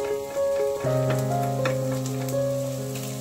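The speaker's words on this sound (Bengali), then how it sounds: "পেঁয়াজ আর ফুলকপি একটু ভাজা ভাজা হয়ে গেছে।" Onion, cauliflower, carrot and peas fry in a pan with a steady, close sizzle, while a sustained tonal background runs beneath it throughout.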